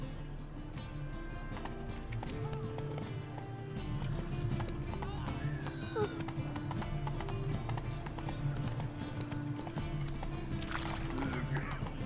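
Geralt's horse Roach galloping in The Witcher 3, rapid rhythmic hoof clip-clops running steadily throughout, with game music, occasional brief snorts and faint voices in the background.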